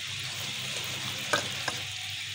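Peshawar-style Charsi karahi sizzles steadily in the pan while it is dished out, with a couple of brief scrapes and clinks of a utensil over the constant frying hiss.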